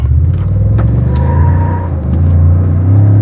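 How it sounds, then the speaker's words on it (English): A Ford F250 Lariat pickup with a 6.7 Powerstroke turbo diesel burns its tires, its engine roaring loud and close in a deep, sustained rumble that builds steadily throughout. "Oh geez, burned both tires."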